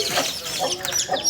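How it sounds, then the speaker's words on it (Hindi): Chickens cluck and squawk in quick, agitated bursts close by as children catch them, with a few sharp calls in short succession. "ये देखिए मुर्गी पकड़ रहे हैं, बच्चे पकड़ रहे हैं मुर्गी के।"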